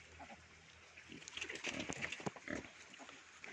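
Wild boar piglets and pigs, including a white piglet crossbred with wild boar, grunt and squeal in faint, irregular bursts close by, with no talking.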